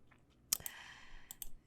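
Mouse clicks in 3D rigging software, a few sharp, close, quiet clicks in quick succession against a near-silent room background.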